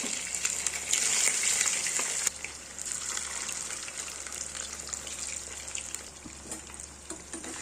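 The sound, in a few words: chicken pieces frying in oil in a wok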